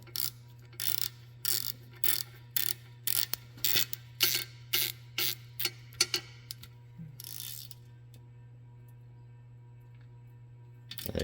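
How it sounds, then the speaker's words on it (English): A socket ratchet clicks in rapid bursts while tightening a nut on a Kubota RTV 1100 utility vehicle, about a dozen close, crisp pulls over a low steady hum before falling quiet. "toss your socket back on there and tighten up that nut again"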